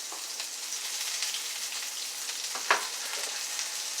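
Chickpea patties fry in a pan with a continuous close sizzle, broken by a brief scrape and knock as a spatula flips and presses one down, no talking.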